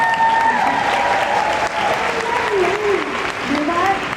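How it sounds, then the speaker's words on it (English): Applause for a speaker at a virtual beauty event, a loud, continuous wash of clapping with a voice carrying over it throughout. "Carmindi, big applause for her."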